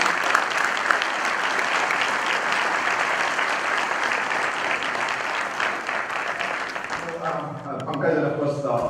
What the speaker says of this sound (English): a big round of applause for Captain Raghu